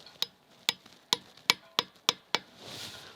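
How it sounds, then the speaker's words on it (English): A hammer taps a metal spile into a maple tree in seven sharp, close knocks spaced about half a second apart, followed by a faint rustle. "Give it a little tap with the hammer"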